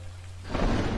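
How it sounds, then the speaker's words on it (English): Artificial rain switches on inside a gecko terrarium tank, a low hum suddenly joined by a broad, rushing hiss of falling water that fills the second half. "Oh yeah, I forgot to mention, the tank has rain."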